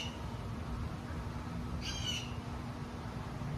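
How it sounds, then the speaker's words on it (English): A crow caws once, briefly and at a distance, over a constant low outdoor rumble and background hum. "which really goes with the crow cawing in the background"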